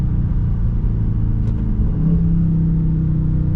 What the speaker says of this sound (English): so if you get on it. Oh yeah, it's pulling.